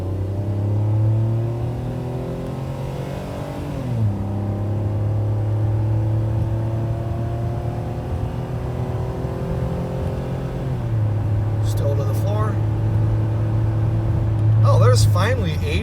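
A 10-year-old Ford Edge rated at 285 horsepower accelerating at full throttle from second gear, with a loud steady engine drone that climbs in pitch, drops at each gearshift, then rises again.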